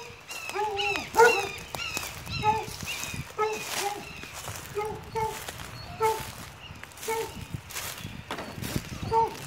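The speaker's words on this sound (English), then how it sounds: "Oh, there's the dogs." Dogs outdoors by a house, panting and scrabbling with pattering footsteps and occasional short yelps, heard close under a person talking throughout.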